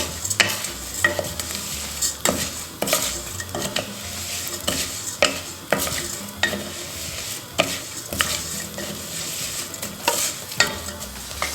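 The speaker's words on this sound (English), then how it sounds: "Just keep stirring this rice." Basmati rice sizzles in a hot pan over very high heat while a utensil scrapes and clacks against the metal in a steady, repeated stirring rhythm, close by.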